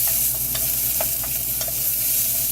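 Garlic fries in a pan for dressed-up ramen, giving a steady close sizzle with soft spoon scrapes and stirring taps throughout.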